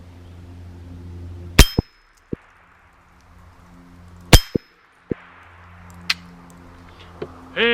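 Rounds from several guns strike a Walmart AR500 steel target outdoors, each hit a sharp, ringing clang; about seven impacts land irregularly, a few loud and close, others fainter, between stretches of quiet.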